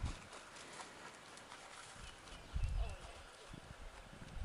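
A horse's hooves clip-clop on the ground during a training session, faint and irregular steps under quiet background noise, with a louder cluster of footfalls midway.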